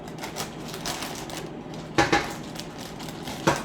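Spoon scraping and tapping against a pan while spreading coffee cake batter, a steady faint scraping with a few sharp metallic clicks near the end.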